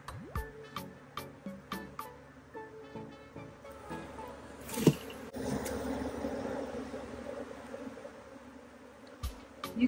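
Honey bees buzzing around open beehives during an inspection on a honey farm, a faint continuous drone under a series of sharp clicks and knocks, with a louder thump midway.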